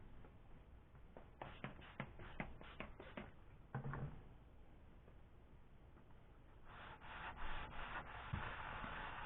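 A metal oil pump adapter slides back and forth under its own weight across a flat surface, a soft scraping rub in repeated strokes with a few light taps, close and quiet.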